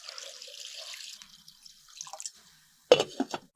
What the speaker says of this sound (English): Pour in water.